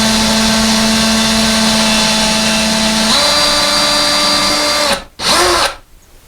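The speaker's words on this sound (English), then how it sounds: "we're going to drill a very small hole into the stud as a pilot hole for the screw" Power drill boring a small pilot hole into a wooden wall stud, a steady close whine that shifts pitch partway, then cuts out and briefly spins up again before stopping.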